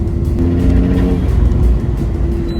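A 400bhp Volkswagen Polo GTI with a Golf R turbo and manual gearbox accelerates hard under aggressive boost, giving a loud, steady, close engine drone with strong low harmonics that holds for the whole stretch.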